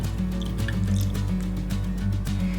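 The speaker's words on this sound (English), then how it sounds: "I like to add a few tablespoons of dark rum here." Dark rum pours and drips steadily into chestnut syrup, a close, wet trickling with small splashes throughout.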